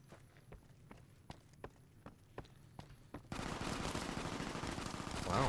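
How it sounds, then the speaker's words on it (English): Rapid gunfire in Fallout: New Vegas, heard first as a string of sharp, evenly spaced distant shots, then giving way to a louder, continuous roaring barrage. "that is a lot of bullets you're firing"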